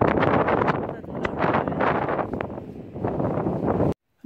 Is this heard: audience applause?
no